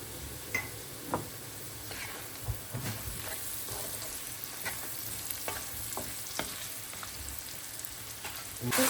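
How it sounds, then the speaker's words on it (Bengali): Onion, garlic, potato and dried fish fry together in a pan, giving a quiet continuous sizzle with scattered soft clicks and scrapes from stirring, close by, ending in a louder burst of sizzling. "ভেজে নিচ্ছি সব একসঙ্গে আজকে ভেজে নিচ্ছি কারণ একটু তাড়াহুড়া করে রান্নাটা করছি তাই সেপারেট করে আর কিছু ভাজলাম না পেঁয়াজ রসুন আলু আর শুটকি"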